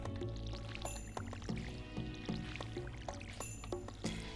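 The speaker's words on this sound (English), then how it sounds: "Okay, well, I'm gonna water my crops." Crops are watered in Stardew Valley, with repeated short splashing pours over steady background game music, moderately quiet and without talk.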